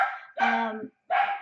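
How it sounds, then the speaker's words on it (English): A dog barks three times close by, loud and clear, with a short gap before the final bark and no talk over it. "Please excuse my dog."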